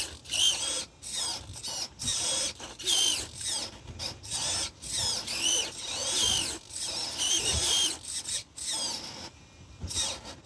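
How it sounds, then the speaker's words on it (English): A rear steering servo on an FTX Hi Rock RC crawler, driven from a FlySky FS-GT5 transmitter knob, whirs in short repeated high-pitched bursts with brief pauses, close and fairly loud. "you can operate the rear steering servo with that top knob there"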